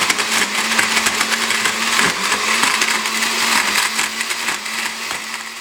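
A blender pulps willow branches in water, a loud continuous whirring grind with a busy, choppy texture as the pieces churn, close and steady throughout.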